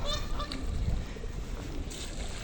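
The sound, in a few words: swans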